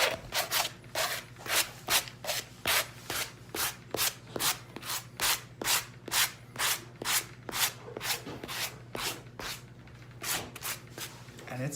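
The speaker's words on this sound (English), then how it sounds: "Now I'm just gonna take my sanding block, just kind of release some of these" Rhythmic back-and-forth scraping of a sanding block on a Dollar Tree craft piece, releasing loose chips, steady strokes roughly twice a second, close and fairly loud over a low constant hum.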